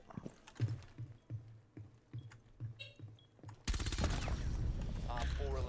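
Gunfire in the video game Rainbow Six Siege, a shotgun firing in a quick series of sharp blasts before a loud, dense burst of shooting and game noise, with someone talking over it.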